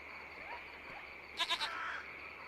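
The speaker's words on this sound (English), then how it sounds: "It's a small goat." A small goat in the video game Lost Horizon gives a short, quavering bleat of three quick pulses over a steady ambient game backdrop.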